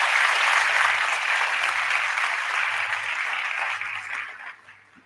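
An audience breaks into sustained, dense clapping that holds steady for several seconds and then fades away.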